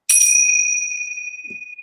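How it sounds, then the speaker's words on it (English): A single bright metallic ring from tingsha bells, struck once and left to decay with a clear, sustained shimmering tone. "So tonight, I'll just use my tincture bells."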